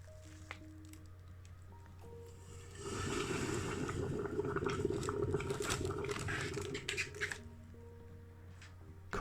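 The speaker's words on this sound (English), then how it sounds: "into the foot-long hot dog jar she goes, covered in boiling water. And incoming a tablespoon of caustic soda." A tablespoon of caustic soda reacting in boiling water inside a tall glass jar, a sudden fizzing, bubbling rush that swells for several seconds and then settles back to a quieter hiss.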